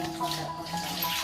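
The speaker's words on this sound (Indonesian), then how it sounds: "Nyuci piring dulu baru makan." Running water splashes at a sink while dishes are washed, a steady close rush with faint tonal ringing mixed in throughout the short stretch.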